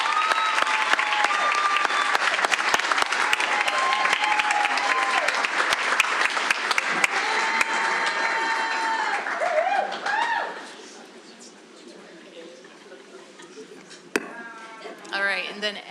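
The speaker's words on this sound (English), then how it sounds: "let's give them one more round of applause" Applause at a board of education meeting for award-winning teachers, a dense roomful of clapping that holds steady for about ten seconds and then dies away, with voices and a few scattered sounds continuing in the quieter room afterward.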